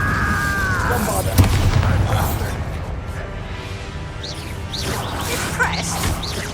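The Bombarda spell blast in Hogwarts Legacy, a heavy boom with crashing debris and whooshing magic effects amid loud battle noise, with voices shouting over it.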